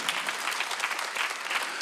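Church congregation at a Sunday worship service clapping together, a dense, steady patter of many hands at close range that continues evenly throughout.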